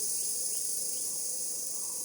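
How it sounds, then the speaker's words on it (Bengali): Crickets chirp in the evening in a rural village setting, a constant, even, high-pitched trill heard alone with no talking. "ঝিঝি পোকার একটা শব্দ"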